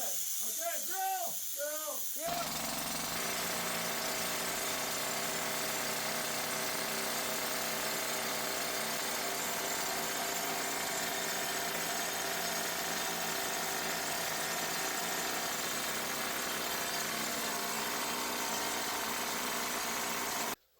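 Rock drill boring blast holes in the raise of an underground gold mine. After a short stretch of other noise, a loud, steady, hissing mechanical roar runs on without a break for nearly twenty seconds.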